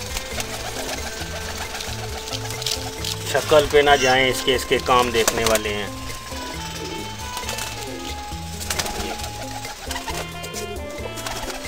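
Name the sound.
pigeons cooing on a rooftop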